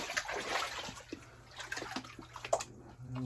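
Water rushing back into the pipes of a 1925 house after the supply is turned back on, hissing and gurgling flow with irregular splashy bursts and a low steady hum underneath, close by.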